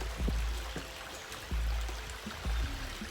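A small waterfall on a Big Bend National Park hiking trail gives off steady rushing, splashing water, with a few low thumps over the noise.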